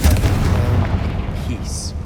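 A Confringo fire spell bursts in Hogwarts Legacy with a loud, heavy boom. The deep rumble rolls on and slowly fades.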